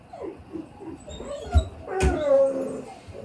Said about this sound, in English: Because the dogs are going nuts.